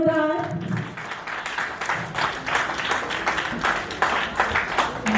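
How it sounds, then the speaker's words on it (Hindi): Family members at a retirement ceremony break into applause, many hands clapping continuously and fairly loudly, with a voice briefly audible at the very start. "और तालियां एक बार जोरदार।"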